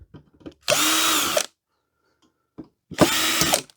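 A power drill removing screws from the circuit boards of a modern LCD flat screen monitor, two loud, close whirring bursts of under a second each, separated by a quiet gap with small handling clicks.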